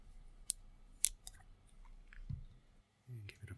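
A bottle of Nanbu Bijin Tokubetsu Junmai sake is opened with a few sharp, close clicks and cracks of the cap, separated by quiet pauses, and a faint voice near the end.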